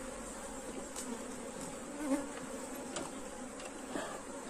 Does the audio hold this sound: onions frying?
no